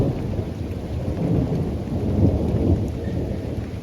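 Steady heavy rain pours through a thunderstorm, with deep rolling thunder rumbling underneath, loud and continuous with no voices.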